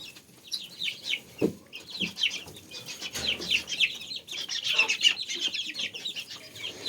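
Young chickens being moved into a warm barn cluck and cheep continuously up close, a dense overlapping chorus with a brief bump or flutter of wings early on.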